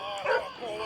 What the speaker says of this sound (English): Now you want to have the Psycho's dog bite you